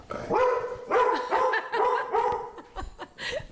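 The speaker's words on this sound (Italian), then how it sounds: "Ma cos'è un altro cane?" A dog barks in a rapid series of loud, close yaps with short pauses, a few whimpery notes mixed in, and faint laughter and voices underneath.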